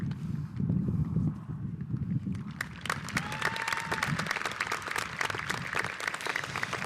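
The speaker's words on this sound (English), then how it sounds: "Can we please have another round of applause for all these first responders?" Applause at a 2023 high school commencement honoring first responders, a dense clatter of many hands clapping that starts muffled and swells brighter and louder midway, sustained throughout.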